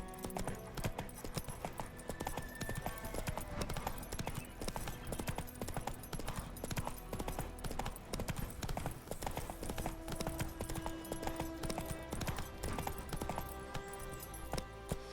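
Horse hooves galloping in The Witcher 3, a rapid continuous clip-clop rhythm that stays even and fairly quiet throughout.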